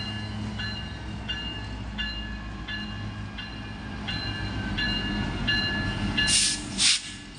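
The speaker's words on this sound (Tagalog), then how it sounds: "Mahaba yung train, super haba." A very long train passes in Skagway, Alaska, its cars clacking in a steady repeating rhythm over a broad rumble and hiss that swells louder toward the end, with a short burst of hissing noise near the close.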